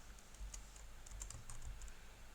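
Quiet, rapid typing on a computer keyboard during a live-streamed FPGA programming session, with soft key clicks in irregular bursts over a low background hum.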